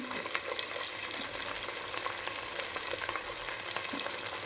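Tomato pieces frying in a pan for a potato and tomato curry, giving a steady, close crackling sizzle with occasional faint stirring taps and no talk.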